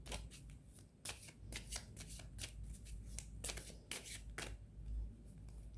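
Tarot cards being shuffled in quick, crisp riffling bursts of papery flicks and slaps, close and steady, with no talking.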